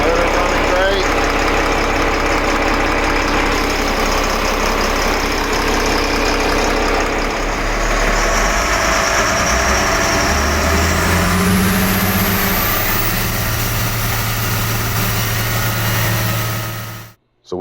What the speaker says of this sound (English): Motor's running great.